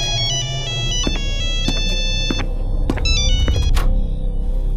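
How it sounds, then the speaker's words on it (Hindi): A phone ringtone rings from inside a bathroom, a repeating electronic melody in several bursts over a low background rumble, fairly clear and alone. "तभी आनंद को एक फोन की रिंग सुनाई देती है जो उसके बाथरूम से आ रही है।"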